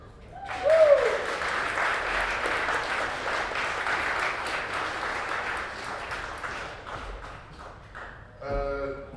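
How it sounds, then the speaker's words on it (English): Audience applause at a video game studio's arcade-themed panel, a steady broadband patter of many hands sustained for several seconds, with a brief vocal whoop early on and a burst of closer claps near the end. "Please give a hand of applause to Krueger."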